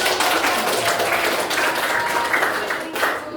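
Students applauding in a classroom after a group presentation, a steady dense patter of many hands clapping for a few seconds before tapering off.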